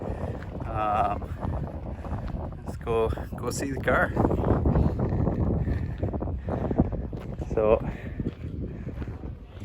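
Wind gusts buffet the microphone outdoors at the Freedom 500 car event, a low rumbling roar that runs continuously beneath someone talking.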